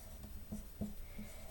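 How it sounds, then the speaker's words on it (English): Pen or pencil writing a formula on paper, a few quiet scratchy strokes with brief taps, close and faint, with no talking. "I'm going to write out the formula as is"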